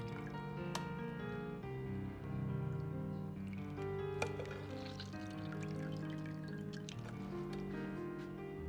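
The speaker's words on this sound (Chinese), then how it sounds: "接着把浸泡过的肉丝清洗干净，捞出挤干水分。" Soaked shredded pork being rinsed and squeezed in water, with a continuous close sloshing and splashing, occasional drips and squishes, and a steady background hum, no talking.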